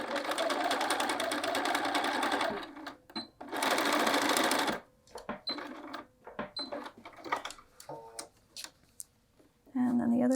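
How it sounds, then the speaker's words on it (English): A sewing machine stitching fabric in loud, rapid runs with brief pauses between bursts of back tacking, plus scattered clicks and handling noises, with a voice speaking in the quieter gaps. "head over to the machine and we're going to sew along the short ends here at 1/2 inch"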